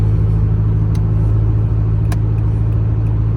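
Steady engine drone of a 2017 Isuzu D-Max 1.9 pickup cruising on cruise control, heard from inside the cab as a continuous loud low rumble with road noise and no talking.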